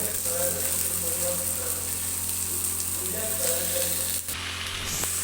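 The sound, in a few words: tomato and meat sizzling in a pan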